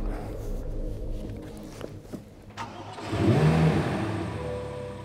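A Chevrolet Corvette Z06 engine of 645 hp roars up sharply at full throttle after a few quiet knocks, revving hard with a rising mid-pitched whine that holds near and loud.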